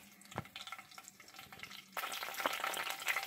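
Curry leaves and seeds frying in hot oil for a spicy egg fry, light scattered crackles and pops at first, then a sudden louder, denser sizzle burst taking over the second half, no speech.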